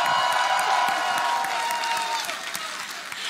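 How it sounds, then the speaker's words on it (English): A large esports arena crowd at a Dota 2 Dream League match applauds and cheers steadily, dense clapping with whoops, loud at first and gradually easing off. "Listen to the crowd."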